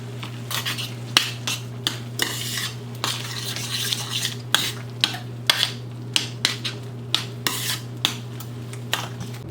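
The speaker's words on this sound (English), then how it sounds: "Now I'm going to mix everything together." A utensil scrapes and clinks in a pot as meatball stew ingredients are stirred together, with repeated sharp taps and rubbing strokes over a steady low hum, close by and without speech.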